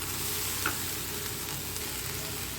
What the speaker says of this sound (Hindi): सब्ज़ी फ्राई करते हुए हमको 5 मिनट हो चुके हैं।